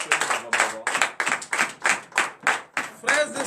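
A church congregation claps in a steady, rhythmic beat during a worship service, roughly two claps a second, loud and close, with voices blending in around the clapping.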